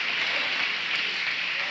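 A church congregation at a Wednesday family prayer service claps in praise, a soft, even patter of applause sustained for a moment at moderate distance.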